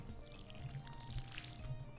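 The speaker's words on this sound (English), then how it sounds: "Okay, now let's water our plants." A watering can pouring water over crops in Stardew Valley, a soft steady trickle with light splashy patters repeating at a low level, heard alone with no talk.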